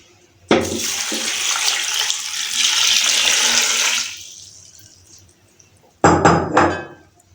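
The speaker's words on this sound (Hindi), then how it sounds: "और इसमें हम 1 जग पानी का डालना है," A jug of water pours into a pressure cooker of spiced sliced ingredients for Kabuli pulao, a loud rushing splash lasting a few seconds, then quiet, followed by a second brief burst of clattering splashes.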